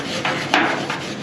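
A wire brush scrubs slag and flux off a fresh weld, giving three short, close scraping strokes with gritty, rasping texture.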